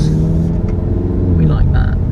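An Aston Martin Vanquish S rumbles by on a central London street, a deep steady engine growl close by, with someone speaking over it.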